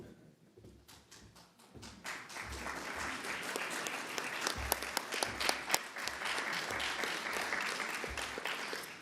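A crowd gives sustained applause for the governor at a Long Island event in Farmingdale, dense clapping that swells after a quieter start and carries on steadily with a few sharper claps.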